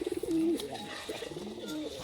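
Sialkoti high flyer pigeons coo close by, a few soft rolling coos with a faint flutter at the start, otherwise quiet.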